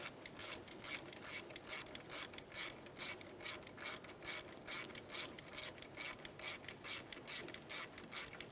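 A ratchet snugs up the brake caliper slider bolts on a 2002-2009 Chevrolet Trailblazer during a front brake job, giving a rapid, steady series of close metallic clicks that lasts several seconds with no talk.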